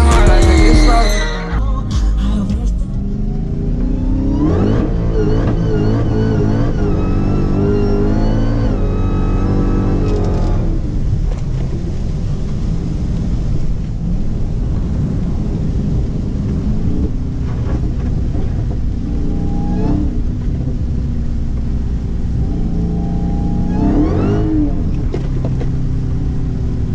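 A Dodge Hellcat engine roars and revs hard and close during a rolling burnout at night, the loud rumble rising and falling without a break. Voices sound faintly underneath.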